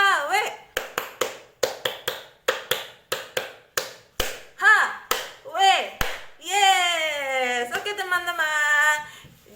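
Children perform the rhythmic tepuk HW clapping chant in a classroom, sharp claps in repeating patterns mixed with sung and chanted voices, ending in a longer vocal phrase.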